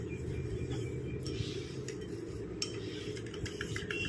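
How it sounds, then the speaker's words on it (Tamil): A spoon stirring egg white into powdered sugar in a bowl, soft scraping and occasional light clinks of the spoon against the bowl, steady and close, no speech. "இந்த மாதிரி கரண்டி வச்சு நல்லா கலந்து விட்டிங்கன்னா நல்லா திக்காக ஒரு கன்சிஸ்டன்சியில் நமக்கு வரும்"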